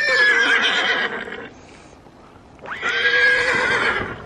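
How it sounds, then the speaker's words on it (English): A horse gives two loud, close whinnies separated by a short pause, each one a shrill, quavering neigh lasting over a second. "It's a horse."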